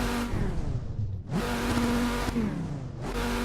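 A Vortex race car engine in a VR racing simulator, revving high and loud, climbing through gears with sharp drops at each quick sequential shift, close and continuous.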